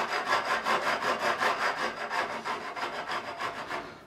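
A metal file rasps rhythmically across stainless steel guitar fret ends, about ten close back-and-forth strokes with a steady scraping pulse and no talking.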